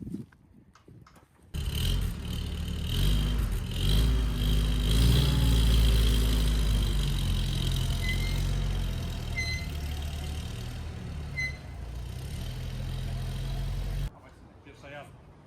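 A 1944 Willys MB jeep engine rumbles steadily as the vehicle drives into a garage, a low continuous drone running for most of the stretch before cutting off, with faint voices around it.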